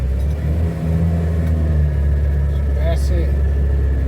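The engine of a 1971 Ford Corcel runs with a steady low rumble throughout, close and continuous, while a person talks over it.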